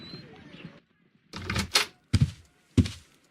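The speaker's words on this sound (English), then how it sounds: "No, I just heard the front door." A front door in a Victorian-era Sherlock Holmes game thumps and clatters in a few distinct bursts (opening, closing, footsteps) after a quiet room murmur, fairly close and moderately loud, with no talk over it.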